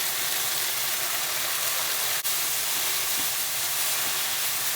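Sake poured into a hot pan during a spicy tofu stir fry gives off a steady, loud hiss of steam and sizzle that lasts throughout, with a brief click midway and no voices.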